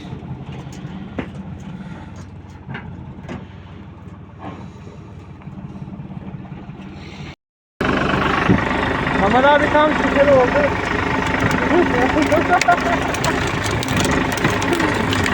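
A tractor engine runs at a steady idle in a village. It is quieter at first, then louder and closer after a brief cut, with people talking over it throughout.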